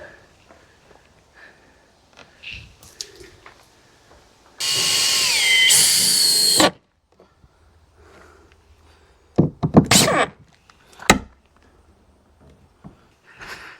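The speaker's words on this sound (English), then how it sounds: "line it up and then screw it into the frame." A power drill driving screws into the frame of a handmade wooden barn door, one loud sustained whir of about two seconds, followed later by a few sharp knocks and clatters of wood and tools nearby.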